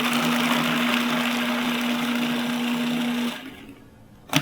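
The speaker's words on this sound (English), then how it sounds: "You want to start with the chickpeas and some of the onion and garlic, and give it a bit of a grind first before you add in the herbs." Food processor grinding chickpeas with onion and garlic, a steady loud whirring motor hum for about three seconds before it cuts off, leaving a quiet tail and a brief knock at the end.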